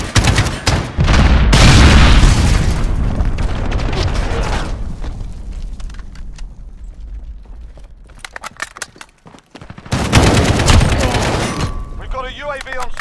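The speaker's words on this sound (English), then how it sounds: "Enemy cruise missile incoming!" Heavy booming blasts from a cruise missile strike in the Modern Warfare beta, a long roaring explosion at the start and another loud burst near the end, with quieter crackling and voices in between.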